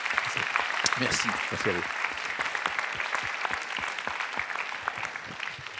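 An audience claps for a speaker after a talk at a business school event, steady even applause throughout, with someone briefly speaking thanks over it.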